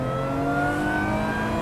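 A Lotus Exige 430 Cup tuned to 500 hp, in sport mode on an open road, accelerates hard at full throttle, its engine note rising loud and steady throughout with no talk.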